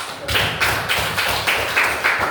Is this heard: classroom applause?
yes